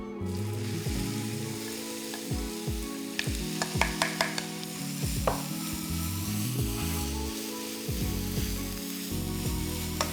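Soya keema, a no-onion, no-garlic veg mince, roasts in a hot pan with a steady close sizzle, broken by repeated scraping and stirring knocks from the spoon throughout.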